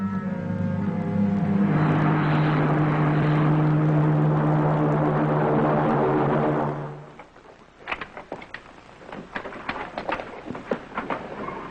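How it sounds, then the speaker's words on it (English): Spaceship blasting off in a 1954 TV space series: a loud, sustained roaring rumble with a droning engine tone that holds for several seconds then cuts away abruptly, followed by quieter crackling and clicking effects. "The spaceship blasts off from the enemy planet Regalio and is approaching Herculon for a landing."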